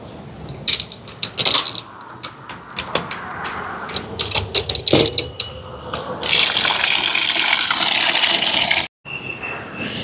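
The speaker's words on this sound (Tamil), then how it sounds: "அரிசியை கழுவி எடுப்போம்." Rice being rinsed by hand in water, with splashing, sloshing and clinking bursts, then a steady rush of running water from a tap near the end, close by with no talking.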